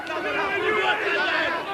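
Crowd murmur from a 1988 Canberra versus Easts rugby league match, a steady babble of thousands of spectators heard at a distance, with a commentator talking over it.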